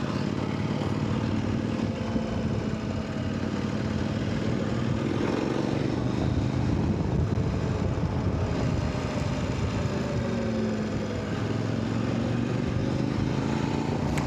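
A Kove 800X Rally motorcycle engine runs steadily in fifth gear at low revs while riding, a continuous loud drone with rushing wind noise, smooth and unbroken throughout with no talking.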